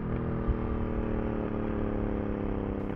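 Honda Africa Twin motorcycle engine with a slip-on exhaust running close by, a steady, throaty mid-pitched drone with a slight rev at the start.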